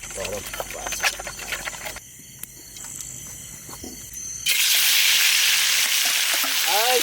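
Cleaned snakehead (shol) fish going into hot oil in a wok for village-style cooking: after quieter moments with voices and faint insect chirps, a loud, sustained sizzle suddenly erupts partway through, with a voice briefly over it.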